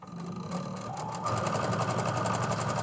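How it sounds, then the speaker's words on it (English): Sewing machine running at a raised speed, a loud, fast, steady mechanical rattle that grows slightly louder and quicker partway through. "I turned my machine up, the speed on my machine up a little bit, so it's also a little bit louder"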